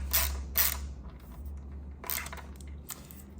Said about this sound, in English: this wrench to tighten it up enough